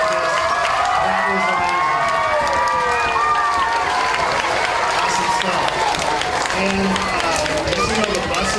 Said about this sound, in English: let's give her a round of applause for Mrs. Doherty, Miss Bailey